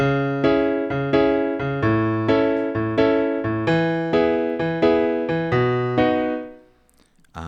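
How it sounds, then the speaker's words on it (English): A house piano arpeggiator pattern in the Xpand plugin, slowed to eighth notes, steps through chords in an even, unhurried pulse for about six seconds before fading out, leaving near silence. "you can change it to 8ths. That's just going to slow down the pattern."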